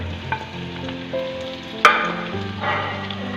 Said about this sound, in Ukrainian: обсмажуємо у вершковому маслі до готовності